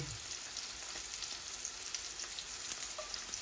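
Cumin seeds dropped into hot oil for a rohu fish curry with carrot and courgette give a faint, steady sizzle and crackle, quiet and continuous with no talk.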